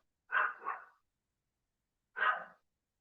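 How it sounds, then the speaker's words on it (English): A dog barks in the background, a quick double bark followed after a pause by one more single bark, fairly clear and with no talk over it. "Sorry, the dog's still barking."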